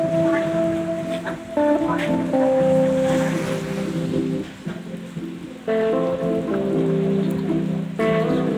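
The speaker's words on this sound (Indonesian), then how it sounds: "Mudah-mudahan segera reda ya hujannya ya" Steady rain falls at night in Kedungsuko, a constant hiss of drops close around. Faint tonal sounds drift through the background.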